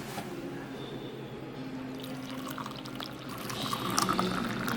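Noodle cooking water is poured from a kettle into a cup at a Pyongyang naengmyeon restaurant in Dongducheon, a steady liquid stream that swells louder near the end over faint restaurant ambience.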